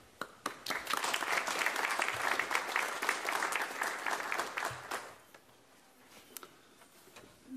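An indoor audience applauds to welcome Professor Bucher of the University of Trier at a live academic event: a dense, steady burst of clapping that swells quickly, holds for several seconds, then thins to scattered claps.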